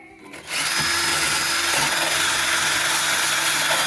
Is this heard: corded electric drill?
yes